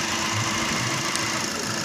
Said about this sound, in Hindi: दोबारा बंद करके इंजन मिसिंग कर रहा है।